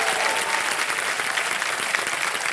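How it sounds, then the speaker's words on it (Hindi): Studio audience applause on the Kaun Banega Crorepati quiz show, a loud, even roar of many hands clapping that holds steady from start to finish. "तालियां बज जाए उनके लिए."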